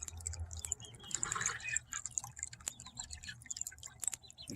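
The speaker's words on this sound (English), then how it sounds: "Here's the pump actually in action." A water pump in an automatic poultry watering system runs close by, giving a steady low hum under trickling, dripping water as it circulates.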